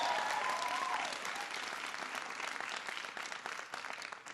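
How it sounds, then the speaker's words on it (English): Audience applause at a Boston speech by President Obama on the individual insurance market, a sustained even wash of clapping from a large crowd heard from a moderate distance. "Give him a big round of applause."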